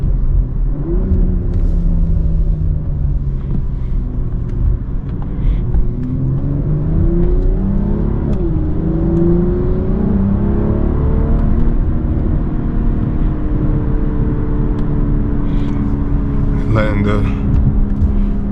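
A BMW M340i engine revs hard while accelerating on a public road, its note climbing steadily in pitch through the gears over a constant low rumble from inside the car.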